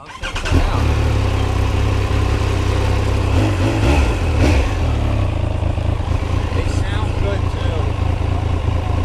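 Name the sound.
Triumph Speed Triple motorcycle engine revving with SC Project exhaust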